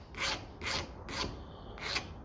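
Four short rasping file strokes chamfer the edge of a phosphor bronze starter bushing for a 1957 Ferguson 35 TVO tractor, evenly spaced and fairly close, with no talk.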